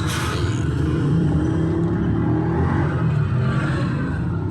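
A clothes dryer motor hums and rumbles steadily after a new capacitor is fitted, a loud, close, continuous whirring drone with no pauses.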